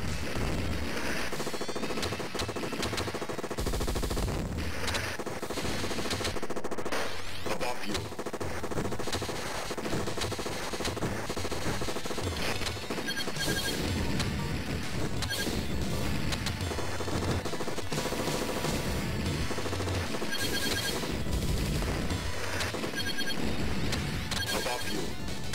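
Rapid gunfire from the 1991 Midway Terminator 2: Judgment Day arcade game rattles almost nonstop, mixed with explosions, crashes and loud game music, dense and loud throughout.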